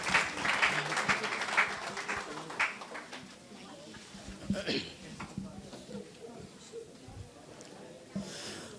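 An audience applauds at a church ministries program in Sharjah. The clapping is strong for the first few seconds, then fades to scattered claps under voices.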